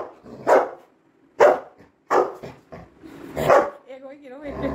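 A Labrador dog gives several short separate barks and yips, close and fairly loud, spaced out with brief pauses, ending in a drawn-out whine.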